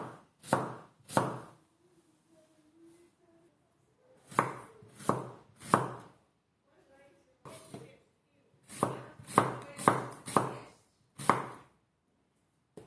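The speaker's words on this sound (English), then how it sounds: "I'm going to cut the onion in half, check one and another blade." A handmade Caribbean knife chops through an onion in sharp, close strikes, coming in clusters of two to four with quiet pauses between.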